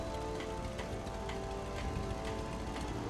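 Steady toxic rain in a colony-building video game, a dense, even wash of patter with faint mechanical ticking underneath, constant and moderately loud across the whole stretch with no voices.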